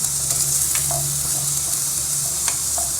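Onion and a green pepper fry in a clay pot under a constant loud sizzling hiss. Faint, scattered stirring taps and scrapes come through now and then.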